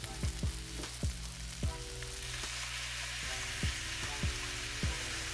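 Chicken fried rice sizzles steadily in a hot pan after oyster sauce goes in, a constant bright frying hiss with several sharp clinks of a utensil against the pan, close and without speech.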